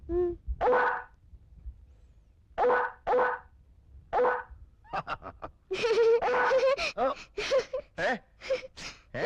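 A person imitates a dog barking close up: a few separate woofs at first, then a quicker run of short, yappy barks.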